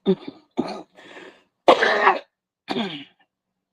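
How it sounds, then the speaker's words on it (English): A series of harsh coughs in separate bursts, close to the microphone, with a louder, longer hacking cough in the middle and no talking. "Please forgive my cough, y'all."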